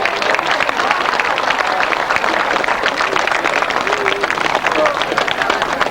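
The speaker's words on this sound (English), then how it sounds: "a very big round of applause for the Tunbridge Club" Crowd at a 1998 British left-hand sidecar grasstrack championship meeting gives a dense, steady round of applause, loud and continuous throughout, outdoors with a busy background.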